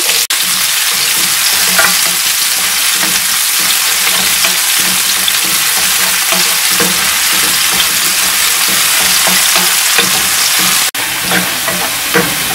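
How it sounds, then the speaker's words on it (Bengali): Cumin, garlic and onion fry in oil in a pan, a loud, steady sizzle with scraping stir strokes running throughout, with no voices. "একটু জিরা দিয়ে দিচ্ছি। দিচ্ছি রসুন, পেঁয়াজ দিয়ে দিয়েছি।"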